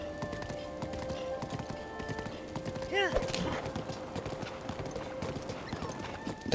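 Horse hooves clip-clop steadily at a trot across the ground in the video game The Legend of Zelda: Breath of the Wild, with a brief whinny around the midpoint and a voice talking over the steady game sounds.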